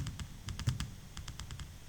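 Keystrokes on a computer keyboard while entering a sheet name in Excel, heard as short clusters of crisp clicks with a brief pause between bursts, fairly quiet over a low background hum.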